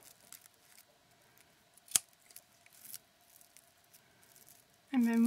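Quiet, close snipping and rustling of scissors trimming witch-broom bristles, with one sharper crisp snip, followed by a voice starting to speak at the very end.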